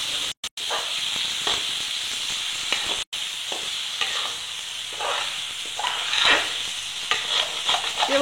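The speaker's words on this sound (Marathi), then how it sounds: "कांदा व्यवस्थित भाजल्यानंतर टोमॅटो टाकायचा, त्याच्यामध्ये व्यवस्थित परतून घ्यायचा।" Onion and tomato sauté in a pan for a restaurant-style mixed vegetable curry, producing a steady sizzling hiss with intermittent stirring scrapes, briefly dropping out a few times, no speech.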